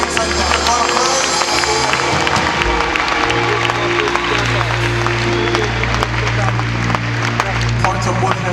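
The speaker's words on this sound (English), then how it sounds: "Come on, clap those hands and give God a praise." A congregation at a Gather25 worship gathering claps its hands in praise, loud and continuous, over sustained music tones and crowd voices.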